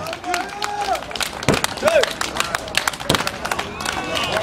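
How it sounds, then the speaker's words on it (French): Spectators at an open-air wrestling show in Congo clap and cheer in a dense, lively crowd, with shouting voices and a commentator talking over the applause throughout. "On applaudit très fort s'il vous plaît"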